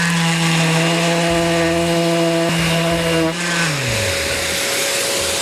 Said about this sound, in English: Now all you gotta do is sand them to look pretty.